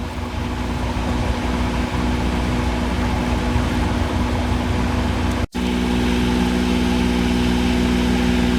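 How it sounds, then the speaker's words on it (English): A steady, droning engine hum holds throughout, with a brief dropout midway before the rumble resumes. "Next boat going by is a lovely motorboat"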